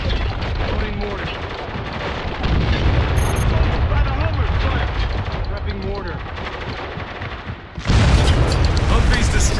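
Mortar fire and explosions from the Spec Ops: The Line video game boom and rumble heavily, with dense gunfire and a fresh loud blast near the end, while soldiers' voices shout over the din.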